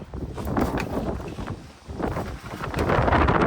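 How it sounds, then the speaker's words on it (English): Strong wind buffets the microphone during an outdoor oil and fuel filter change on a Ram 5500 truck, a constant low roar and gusty rumbles, easing briefly before surging again louder; no voices are heard. "it's super windy today"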